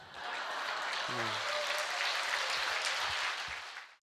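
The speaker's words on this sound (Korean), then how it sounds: "박수 치신 분들만 만수무강하십시오" An indoor audience claps together in a sustained burst of applause at a Korean seminar, loud and dense for a few seconds before fading out.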